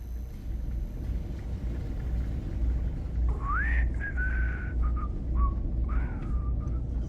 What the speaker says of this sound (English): You're doing a poor job of whistling,